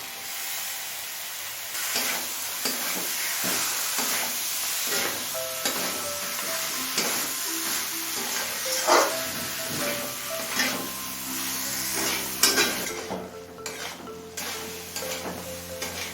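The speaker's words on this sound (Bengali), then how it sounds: "গাজর দিয়ে মিনিট দু তিন একটু কষিয়ে নিলাম" Chopped carrot sautéing with a spiced katla fish head in a pan, a steady sizzle broken by scraping stirs and clattering utensil knocks, with faint tonal sounds behind it.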